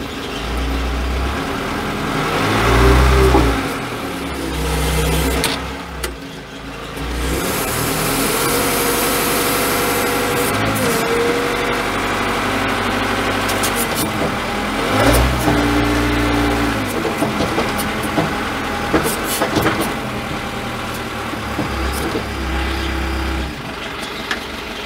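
An Ursus tractor engine running steadily during farm loading work with a manure spreader, a loud close mechanical drone that swells with revving at times and carries clanks over the whole stretch.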